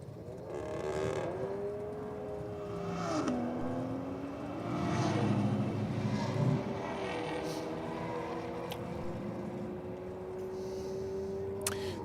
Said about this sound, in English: Next up, the BMWs taking on the Golf R over there.